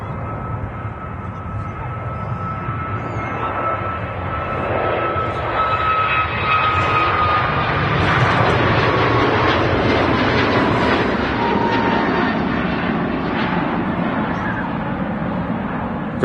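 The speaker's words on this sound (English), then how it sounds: "Aer Lingus UK service for JFK's on the takeoff roller at Manchester." An Aer Lingus Airbus A321 bound for JFK takes off at Manchester Airport, its engines roaring steadily and loudly for the whole clip, with voices talking over them.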